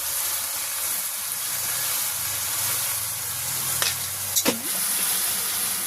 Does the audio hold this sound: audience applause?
no